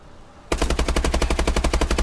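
Rapid automatic fire from a Bal-27 rifle fitted with a .308 in Call of Duty: Advanced Warfare, a sudden, loud burst of evenly spaced shots that continues without pause.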